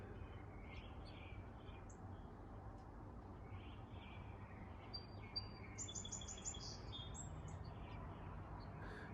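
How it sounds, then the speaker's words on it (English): Birds chirp and tweet outdoors in short scattered calls, a little distant and faint over a steady low rumble of passing cars. "Hear the birds, the cars, sounds of life outside."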